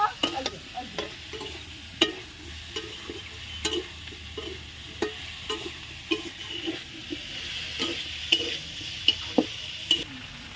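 Ginger and garlic fry in a pan for a prawn curry, with repeated stirring scrapes and knocks against a steady background sizzle, close and fairly loud, with no talking.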